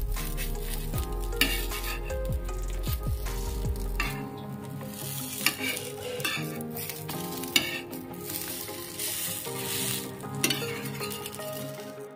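Thin patishapta crepe sizzling on a hot, oil-brushed tawa as it is folded, a strong close crackle with stirring and spatula scrapes, then quieter sizzling with occasional taps, no speech.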